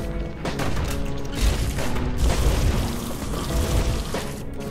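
Gunfire and heavy booms from the action game Bastion thud through the whole stretch, with repeated low-end impacts and bursts layered over a busy game soundtrack.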